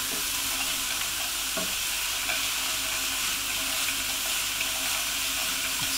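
Vegetarian sausage and bean casserole frying in a pan, a steady bright sizzle with occasional stirring scrapes, close up and with no talking over it.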